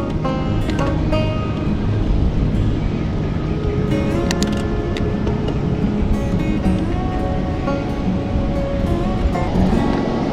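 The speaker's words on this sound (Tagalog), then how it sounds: "Grabe oh, ang lakas ng alon." Heavy ocean surf roars steadily without a break at a beach in Labrador, West Luzon, with wind buffeting the microphone throughout.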